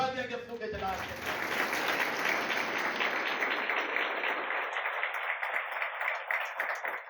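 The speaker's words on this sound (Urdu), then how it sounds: "زوردار تالیاں یسوع کے جلال سے." A church congregation claps loudly through a sermon, a bright continuous patter of many hands that stays even and fairly close for several seconds, with a little speech at the very start.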